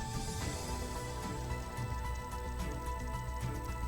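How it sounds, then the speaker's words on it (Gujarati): Heavy rain pours down steadily in Jafrabad, Amreli, a continuous dense wash of falling water with no break. "સતત ધોધમાર વરસાદ ખાબક્યો"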